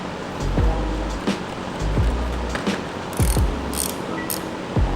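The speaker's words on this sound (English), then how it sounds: "the 24 is the biggest ratchet that I have" A ratchet wrench turns a bolt with quick clicking bursts, several short runs of pawl clicks separated by pauses, heard close up and alone.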